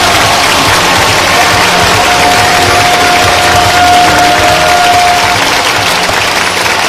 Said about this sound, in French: je vous demande de faire un tonnerre d'applaudissements pour nos enfants qui nous saluent